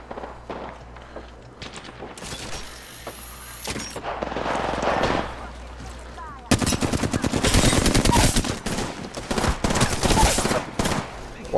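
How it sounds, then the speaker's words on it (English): Automatic gunfire rattles through a video game firefight, with scattered shots early and then dense, rapid bursts of machine-gun fire dominating the second half, loud and close. "Oh shit, I'm being shot at."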